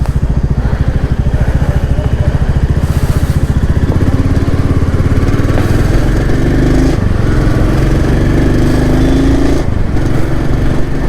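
A Royal Enfield Bullet single-cylinder motorcycle engine thumps steadily and loudly while riding, its rhythmic low putter continuous throughout with slight revving changes.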